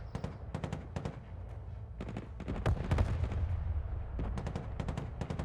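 Rapid gunfire aimed at marines in the war game Broken Arrow, loud crackling bursts and single shots overlapping almost continuously with heavier thumps underneath.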